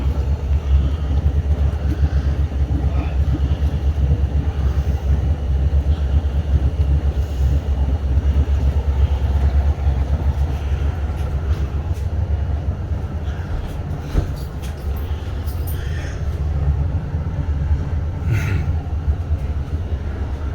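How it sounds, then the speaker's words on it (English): Houseboat motor running at a riverside marina while the boat backs out of port, a steady low rumbling drone that holds at an even level throughout. "got the houseboat running, backing it out of the port right now"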